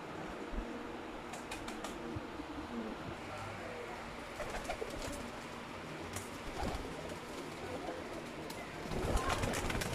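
Teddy and Tasweer breed pigeons coo softly in a loft, low repeated calls with occasional light rustling and wing movement, faint and somewhat distant over a quiet background.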